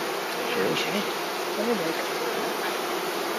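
A steady, close hum of package honeybees buzzing as they are hived in Donegal fills the whole clip, with a few individual buzzes rising and falling over the drone.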